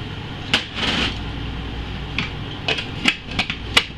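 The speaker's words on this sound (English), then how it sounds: "First thing I'm going to do is grind my oats." Oats ground in a coffee grinder or mortar and pestle for shower bars, with a few sharp knocks and short bursts of grinding scattered across a few seconds of otherwise quiet room noise.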